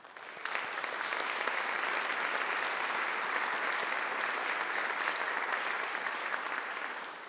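A crowd at a GSU university convocation breaks into applause, with clapping swelling quickly and holding steady and full for several seconds before starting to fade.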